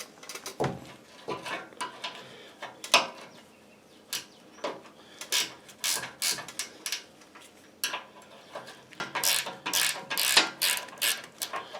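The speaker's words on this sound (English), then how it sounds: "The ratchet wrenches are nice, but just barely fit in there because of the weld." A ratchet wrench turns an 11 mm nut and bolt on the curl cylinder of a Massey Ferguson GC2300 front end loader, giving close, irregular bursts of clicking pawl strokes with brief pauses between them.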